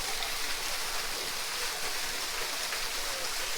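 A Jamaican waterfall pours steadily near Kingston, sending out a dense, unbroken hiss of falling water that stays loud and constant throughout.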